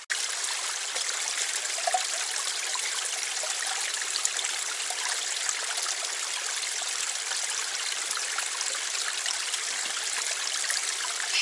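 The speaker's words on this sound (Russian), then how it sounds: "Чистая водица." Mountain stream in the Carpathians near Rakhiv on the Marmarosh ridge, water rushing and trickling over stones in a steady, continuous wash, close and fairly loud from start to finish with no voices.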